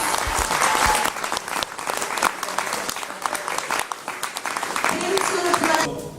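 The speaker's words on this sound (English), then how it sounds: "So can we give a big round of applause?" An audience at the Museum of Liverpool breaks into applause, a lively, fairly close wash of many hands clapping that carries on steadily with a few voices mixed in.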